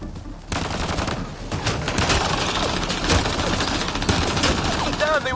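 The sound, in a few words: gunfire from the video game Mass Effect: Andromeda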